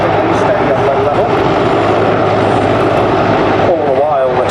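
Military helicopters lift off troops at an air show, their loud rotor and engine roar constant and close, with an announcer talking over the noise.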